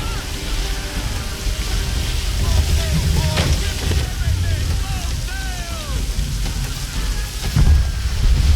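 Storm at sea in Assassin's Creed III, with steady heavy rain and rolling thunder, a couple of louder rumbles near the middle and end, over a constant wash of wind and surf.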